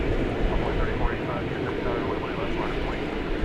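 Airliner, a 1999 Boeing 777, taking off from runway 18 Left at Dallas Fort Worth, a steady broad engine roar held at a constant level throughout, with voices talking over it.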